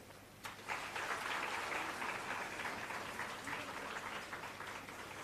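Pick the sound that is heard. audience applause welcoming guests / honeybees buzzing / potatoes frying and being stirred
audience applause welcoming guests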